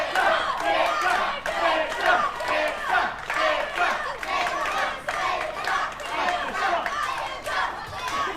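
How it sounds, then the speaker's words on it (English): A wrestling event crowd roars and cheers in rhythmic surges, with chanting, shouts and scattered clapping filling an arena continuously. "The crowd firmly behind Victor Logan here"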